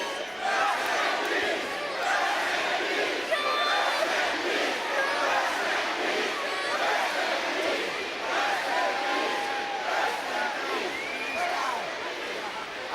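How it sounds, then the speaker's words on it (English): A capacity arena crowd at a WWE Undertaker versus Goldust wrestling match cheering and roaring continuously, a dense wash of shouts and whistles from thousands with a commentator talking over it. "Listen to this capacity crowd."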